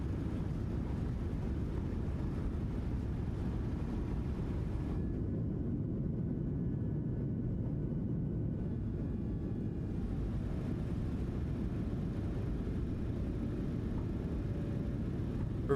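Jet engine roar from thrust reversers on landing a PMDG 737-800 in a flight simulator game, a steady loud low rumble that holds throughout with a slight dip in the upper hiss midway.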